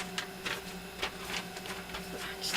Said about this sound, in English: And I apologize for the printer noise.